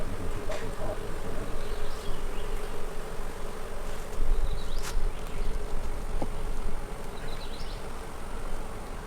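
Irritated honeybees swarm over an open hive in a dense, steady buzzing drone that fills the air, loud and continuous with no pauses.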